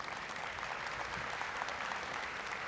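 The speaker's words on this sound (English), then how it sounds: "So round of applause to the City of Montreal and World Summit AI." Conference audience at World Summit AI in Montreal applauds, a faint, distant and even wash of many clapping hands holding steady without voices.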